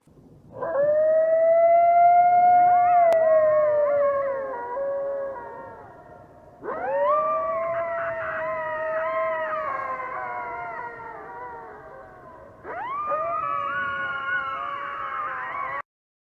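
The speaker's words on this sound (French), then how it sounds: "Je sais pas si vous avez déjà entendu des coyotes hurler." A recording of coyotes howling, heard from a camp on the Appalachian Trail, plays as three long, loud wavering howl choruses separated by brief dips, with no talking over it.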